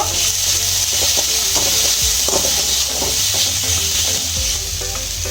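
A fish chop mixture with turmeric and salt is stirred in a pan: loud, close sizzling with a broad hiss and a dense run of scraping spatula strokes throughout.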